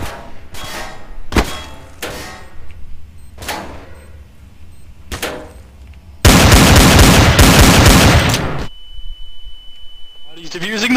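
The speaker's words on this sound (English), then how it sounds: "how did I not kill him with four pistol shots?" Sharp pistol shots from Counter-Strike: Source on the Dust 2 map ring out one at a time, several spaced across the first few seconds, followed by a dense burst of loud gunfire and a fading high tone.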